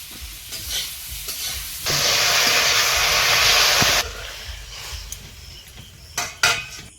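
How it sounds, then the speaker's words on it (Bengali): Water hits a hot pan of frying eggplant and potato, bursting into a loud, steady sizzling hiss for about two seconds, surrounded by softer frying crackle and a few sharp utensil clinks against the pan. "লবণ বেগুন আলুটা কষানো হয়ে গেছে এবারে জল দিয়ে দেবো"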